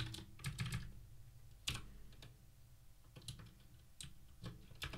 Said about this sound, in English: This is me typing at the same time.